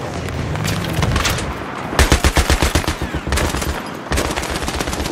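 Rapid automatic gunfire in the video game Battlefield 3, loud close bursts of repeated shots in rhythmic volleys with short gaps, over constant battle noise.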